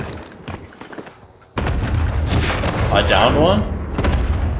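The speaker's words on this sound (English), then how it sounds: "Allied cluster strike inbound." Cluster strike explosions in the shooter game Call of Duty Warzone: a sudden heavy boom opens a sustained rumbling barrage of blasts, while a player speaks briefly over the din.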